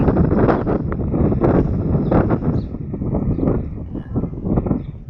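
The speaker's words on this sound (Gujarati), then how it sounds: "આજે પવન બહુ જ છે" Strong wind buffets the microphone in loud, rumbling gusts that rise and fall, with no voices, outdoors at a wheat harvest.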